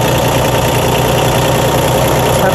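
A 1993 Toro Groundsmaster 325d mower's Mitsubishi K3D diesel engine idles loud and close, with a steady, even rumble and a constant mechanical hum and no pauses.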